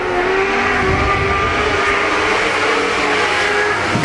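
ModLite race cars roar around the Arizona Speedway on opening night, a dense, loud, continuous engine drone from a full field of cars with no break.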